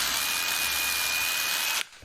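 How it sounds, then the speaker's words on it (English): A power drill whines in one continuous high run while pre-drilling holes for coat hooks in wood, loud and close, then cuts off abruptly near the end. "I'm going to just pre-drill them a little bit so that we don't have any splits."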